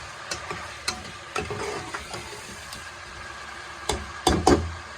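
Meat for palak gosht frying in oil, a soft sizzle under a low steady hum, broken by several sharp spoon clatters and scrapes against the pot, louder near the end.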